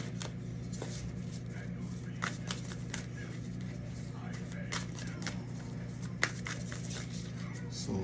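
Tarot cards are shuffled close up in a run of soft riffling and papery flicks with a few sharper snaps, over a low steady hum and a voice talking in the background.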